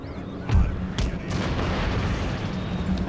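Artillery firing during an Empire: Total War battle: a handful of dull booms, one heavier blast near the start, then scattered distant reports over a rumbling battlefield backdrop.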